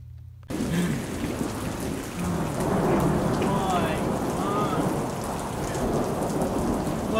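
A thunderstorm known for producing tornadoes pours heavy rain in a steady, dense hiss, with deep rolling thunder swelling beneath it after a brief quiet start.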